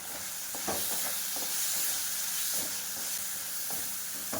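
Chili powder, turmeric and biryani masala fry in oil with a soft continuous sizzle and hiss, broken by a few light stirring scrapes, fairly quiet throughout with no speech.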